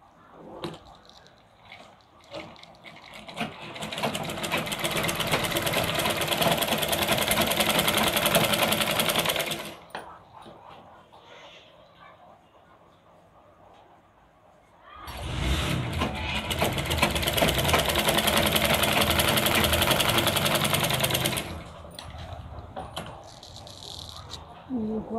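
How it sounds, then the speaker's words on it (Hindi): A sewing machine runs in two long, steady bursts stitching a lined choli-cut blouse, whirring loud and close with a quieter pause between runs and soft handling noise around them. "अब उसी तरह हम ये मशीन ऊपर से भी चलाएंगे"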